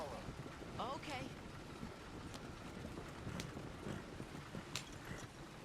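Horse hooves clip-clop in Red Dead Redemption 2 as a rider crosses the countryside, a quiet, irregular trotting rhythm under wind and ambient outdoor noise.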